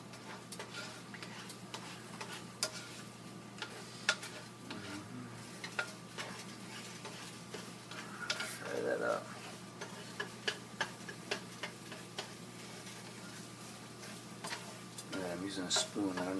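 Whole eggs cooking in a pan and stirred with a spoon, giving a low sizzle under scattered light metallic taps and scrapes, while a person talks intermittently.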